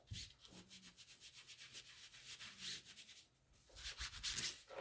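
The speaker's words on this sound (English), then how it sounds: "I'm going to take one of these disinfecting wipes and just gently rub over the transfer." A disinfecting wipe rubbed gently over a chalk transfer on a desk, making a soft, steady series of repeated rubbing strokes that pause briefly, then resume with a louder, scratchier pass near the end.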